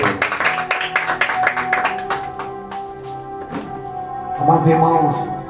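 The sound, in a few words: church congregation clapping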